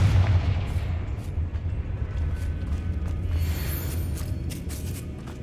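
Confringo fire spell blasts in the video game Hogwarts Legacy, heavy booming rumbles with crackling bursts repeating over a dense low roar, loud and close, no voices.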